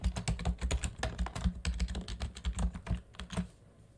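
Quick typing of a login number and password on a computer keyboard, a close, steady patter of key clicks lasting about three seconds before stopping.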